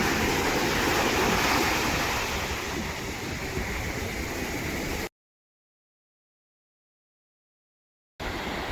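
Ocean waves wash onto the shore in a steady, moderately loud surf that fades slightly, drops to silence for a few seconds, then returns.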